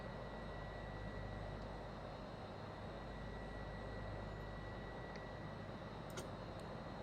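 A light aircraft engine drones steadily while taxiing in Microsoft Flight Simulator 2024, a constant low hum with faint high whine, quiet and unbroken, with a few small clicks near the end.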